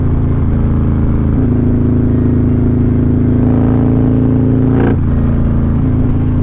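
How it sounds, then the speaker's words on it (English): Close, loud exhaust of a Harley-Davidson Street Glide motorcycle, a deep steady rumble that swells into a brief rev before dropping back to a low, even throb. "listen to that exhaust"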